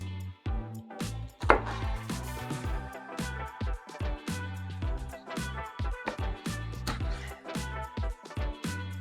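Hake fish cut into pieces with a knife: a rapid series of sharp, close chopping knocks against a board, irregular in rhythm, with no voice present.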